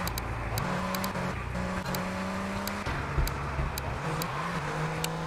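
Car engine in the video game GTA 3 revving and shifting through gears as the vehicle speeds off, steady mid-loud motor drone with periodic rises in pitch, no talking.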